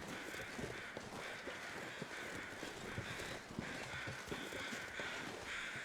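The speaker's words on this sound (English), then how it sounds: "let's go see what these crows have left us in terms of feathers" Crows caw faintly in The Long Dark survival video game, heard through a steady, hissing outdoor ambience without talk.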